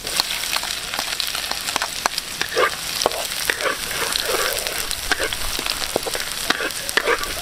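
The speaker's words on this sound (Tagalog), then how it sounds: "nagisa na natin lahat yung luya" Garlic and ginger sizzle steadily in a hot pan over charcoal embers, a constant frying crackle with scattered pops and occasional stirring scrapes.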